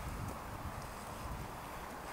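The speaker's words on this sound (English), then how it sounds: "It's way too windy and way too wet." Steady, blustery wind buffeting the microphone with a low rumble throughout, loud and continuous, with no voices.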